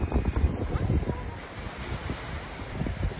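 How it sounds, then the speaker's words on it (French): Strong wind gusts across Haeundae beach in Busan, a roaring, buffeting rumble that blasts the microphone continuously alongside the wash of surf, with no voices. "J'espère qu'on va un peu m'entendre avec le vent"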